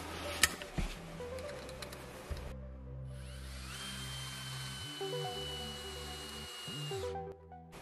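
A regular-thread self-tapping screw is driven in by a power drill or screwdriver: some clicks and handling noises first, then a sustained whirring motor tone for several seconds with brief dips in speed before it stops.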